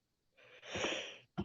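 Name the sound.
yawn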